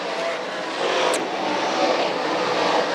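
Modified race cars lap an oval at Can-Am Speedway in a 358 Modified feature, their engines blending into a steady, broad roar heard from a distance, with no clear individual pass.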